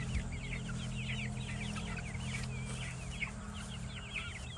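Chickens clucking close by on a farm, several birds with busy, overlapping murmuring clucks over a constant low background hum.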